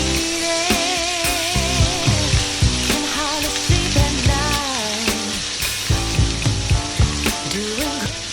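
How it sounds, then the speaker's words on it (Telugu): A blended tomato, onion and masala paste fries on a medium flame for restaurant-style chicken curry, giving a constant sizzle that sits under loud, continuous music. "ఇందులోకి మిక్సీ పట్టిన టమాటా, ఉల్లిపాయ, మసాలా పేస్ట్ వేసి మీడియం ఫ్లేమ్లో ఫ్రై చేయాలండి."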